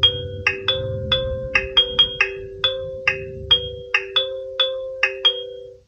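The second ringtone of an AOSU wireless video doorbell base station plays as a quick, bouncy electronic melody of about a dozen plucked notes over a sustained tone, fairly loud and close, with faint background hum early on.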